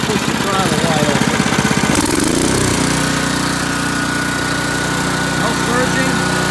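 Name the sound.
Honda HS55 snowblower engine at wide open throttle, China carburetor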